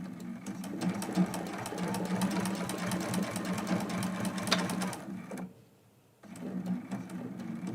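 A sewing machine stitches a quilt block in a close, steady whirring run, pauses briefly for about a second, then starts again at the same pace, with no talk.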